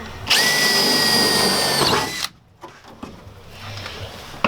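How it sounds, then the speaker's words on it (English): A power tool sets rivets into a bed rail wall bracer. It whines loudly and steadily for about two seconds, then stops and leaves quiet handling noises. "The rivets are put in."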